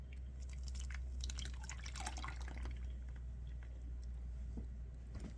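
Custard pie filling with sugar mixed in poured back into a container, a steady trickle with wet dripping and splashing over a constant low hum, close by and without talk.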